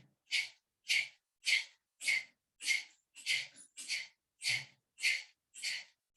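A group practising Sitali pranayama breathing exhales in unison, a series of ten short, hissing breath-outs spaced evenly about every half second with silence between them.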